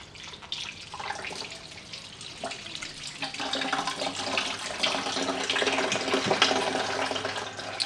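Water running through the coolant system of a 2025 Ducati Panigale V2 during a flush and splashing into a bucket, a continuous hissing gush that swells gradually louder, with no talking.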